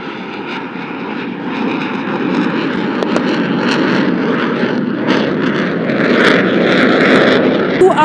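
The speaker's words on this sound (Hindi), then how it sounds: "now the aircraft is adjusting for the final and farewell maneuver of its display today" A military aircraft passes during an air display at a Pakistan Army weapons showcase, giving a loud, steady engine roar that slowly swells, with a commentator's voice underneath.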